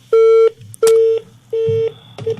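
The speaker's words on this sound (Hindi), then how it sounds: "लगता है जी कॉल ड्रॉप हो गई है" Telephone tones cut in on a call to an FM radio show as the line drops: four loud, steady beeps at an even pace, each about a third of a second, with short gaps and no voices.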